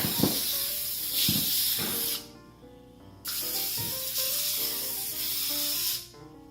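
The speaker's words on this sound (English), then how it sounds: "I'm going to have my helper to spray these pans down" Cooking spray hisses onto baking pans in several sustained bursts, each loud and close, with brief gaps and quieter background sound between them.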